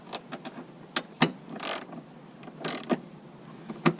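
A ratchet with a 10mm socket works a bolt loose on a 2004 Chevy Blazer 4.3, giving quick, close clicking bursts and metallic ratcheting with two longer whirring pulls, no talking.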